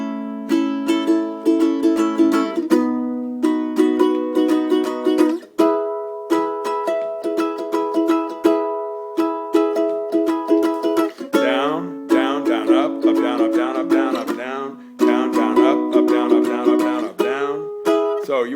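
A ukulele strummed at full speed in a steady up-and-down pattern, playing a song as bright chords with short pauses between phrases, fairly close and loud.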